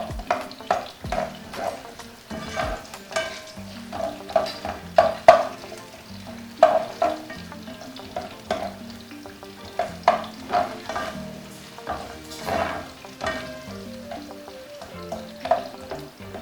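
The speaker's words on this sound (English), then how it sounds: "I fry them until they're translucent" Chopped onions fry in hot oil for a dish of fried plantain and gizzards, a steady crackling sizzle broken by repeated clattering stirs of a spoon in the pan, close and continuous with no voices.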